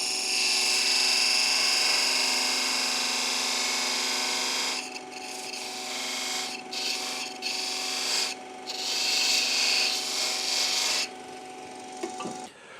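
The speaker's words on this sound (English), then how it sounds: "I'm going to make a little mark, a little groove in there for a rubber washer, rubber gasket here." A tool rasps a groove for a rubber gasket into a wooden water bottle, a continuous close grinding scrape that runs steadily, then breaks into shorter strokes with brief pauses.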